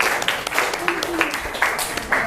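A classroom group claps for a student group that has just presented, a brief burst of scattered clapping with a few sharper claps, moderately loud.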